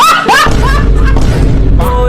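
A comedy sketch's landmine explosion effect hits as a loud, deep boom with a sustained low rumble, bracketed by brief voiced exclamations just before and at the end.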